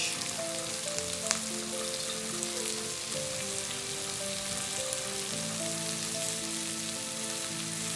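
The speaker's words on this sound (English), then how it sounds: "So now we're getting ready to add in our cabbage." Cabbage fries in a pan with a dense, steady sizzle and crackle that runs on without a break, close and moderately loud, with no talking over it.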